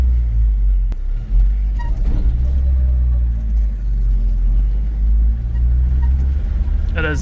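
A low-powered petrol vehicle with a big wheel and upright seat drives along, a loud, close, steady low engine rumble throughout, with brief clunks and a rising whine near the end.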